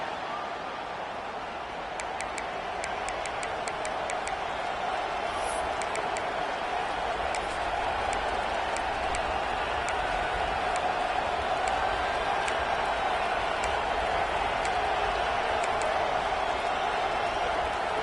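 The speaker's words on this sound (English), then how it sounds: "This crowd ready to make its presence known." A large football stadium crowd roars at the Razorbacks' season-opening kickoff, a dense sustained wash of cheering with a steady mid-range swell and faint whistles, under a commentator's voice.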